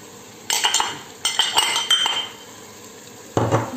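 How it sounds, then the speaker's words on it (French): A spoon scrapes and clinks against a metal pot while stirring meat, potatoes, peppers and tomatoes, several close bursts of stirring separated by short pauses, with no talk. "Vous mélangez."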